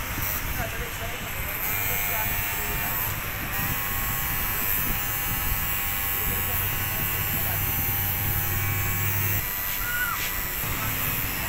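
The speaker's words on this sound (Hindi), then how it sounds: "ये देखो हेयर ट्रिमर से सही हो जाएंगे बाल" Electric hair trimmer buzzing continuously as it cuts a child's hair, a steady close whine running throughout while people talk over it.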